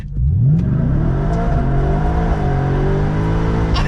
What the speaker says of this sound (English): A smoky all-wheel drive, a smoky burnout in a truck.